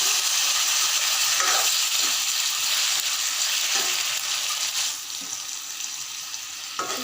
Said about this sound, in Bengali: এবার একটুখানি জল দিয়ে দেবো সিদ্ধ হওয়ার জন্য